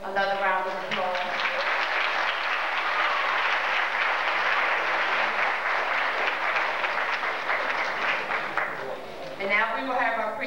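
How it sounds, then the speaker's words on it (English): Audience at a 2002 PTA graduation ceremony giving a long round of applause, a dense, sustained clapping roar that swells and holds for several seconds before fading, with voices and a few cheers around the start and end. "Let's give Professor Smith another round of applause."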